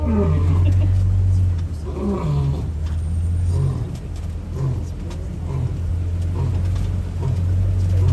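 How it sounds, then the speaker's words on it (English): A lion roars on safari in a series of low, deep grunting calls, heavy and rumbling, mixed with the steady drone of an idling vehicle close by. "So that is a lion's roar. It doesn't sound like it does in the movies at all."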